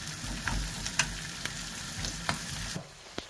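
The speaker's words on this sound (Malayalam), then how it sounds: "കുറച്ച് കരിയാപ്പലയും കൂടെ ഇട്ട് ഇനി ഇതൊന്ന് വറുത്തെടുക്കണം" Curry leaves frying in oil for a tapioca biryani, a soft continuous sizzle with light stirring scrapes and small ticks, close but fairly quiet.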